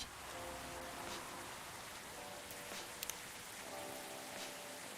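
Steady rain hiss fills the background of the video game Coffee Talk, a soft even wash of drops with faint musical tones under it.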